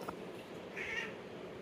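A ginger cat gives a single short meow partway through, fairly faint against low background noise indoors.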